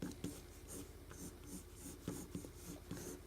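Pencil drawing a figure's body on paper, with close, scratchy strokes that repeat in a steady rhythm of short sketching marks.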